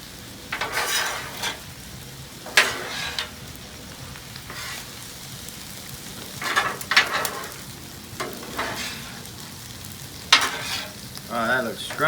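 Shrimp and chicken fried rice sizzles steadily on a Blackstone griddle, with repeated scraping and clanking of spatulas as it is stirred and mixed, close and fairly loud.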